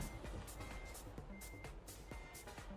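Steady reversing beeps from a truck repeat at an even rhythm over a low engine rumble, moderately distant.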